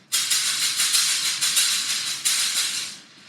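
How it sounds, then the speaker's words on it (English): A shaker is played alone in a bright, hissing rhythm, its pulses evenly repeated for a few seconds before stopping. "This is a professional shaker and it sounds like this."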